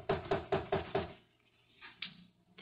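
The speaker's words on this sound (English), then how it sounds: "I'll knock again." Five quick, evenly spaced knocks rap on a wooden door close by, followed by quiet shuffling and a couple of faint thuds.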